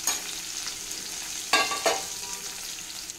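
Curry leaves and turmeric fry and get stirred in a pan with green chillies, a steady close sizzle broken by two sharper scraping bursts of the spoon midway.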